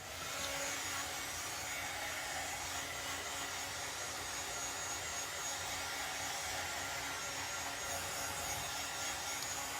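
A dryer blows steadily on freshly painted chalk-paint craft work, a continuous broadband airy whoosh held at even loudness throughout, with no talking.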